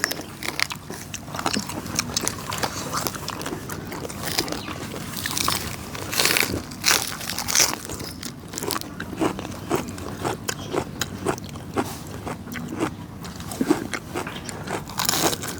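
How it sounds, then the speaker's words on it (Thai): Close, rapid crunchy biting and chewing of blanched giant squid, a steady run of sharp crisp crunches and wet mastication continuing throughout with no talk. "มันกรึบกรึบเนาะจ้ะกรอบกรึบกรึบ"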